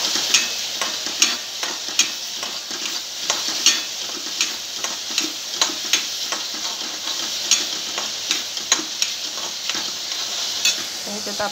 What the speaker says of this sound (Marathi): आता भाजून घ्यायचा चांगला